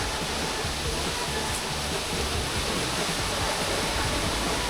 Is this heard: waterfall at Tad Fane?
yes